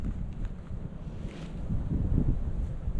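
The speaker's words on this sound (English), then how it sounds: "A little windy today." Wind buffets the microphone on the Appalachian Trail in a steady low rumble, growing stronger and gustier toward the end.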